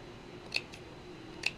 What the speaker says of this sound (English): Then you just go along and snip like this all the way down.